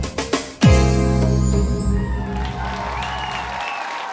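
Applause from a TV show audience for two singers performing Armenian pop, a few claps that swell into a loud sustained ovation over a dense, ringing sound with strong tones, then fading out.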